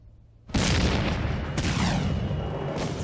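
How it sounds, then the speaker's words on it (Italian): Swedish cannon fire on a Thirty Years' War battlefield: a sudden heavy boom breaks the quiet, followed by a long rolling roar with a second blast swelling partway through, loud and close, with no voices. "i colpi di cannone degli svedesi infuriano"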